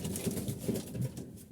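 Pigeons in a pigeon house give soft, low cooing calls in a few repeated bursts, close and moderately loud.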